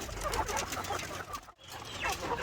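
White leghorn chickens, small-bodied birds, cluck in a flock, with overlapping soft calls continuing throughout at moderate distance, briefly dropping away once before resuming.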